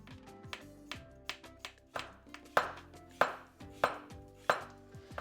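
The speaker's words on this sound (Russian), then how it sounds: "Картошку нарезаю тонкими пластинками, примерно 3 мм толщиной." A knife slices raw potatoes into thin slices about 3 mm thick on a cutting board, with sharp, regular chops roughly every half second, close and clear, with no talk.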